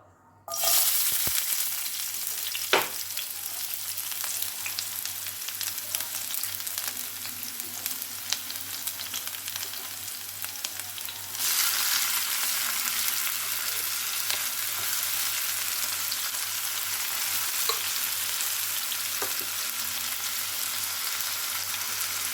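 Sliced onion, green chili and tomato sizzle steadily in hot oil in a pan, a prawn curry base starting to cook; the frying hiss starts abruptly, holds constant and grows slightly louder midway, with no talking.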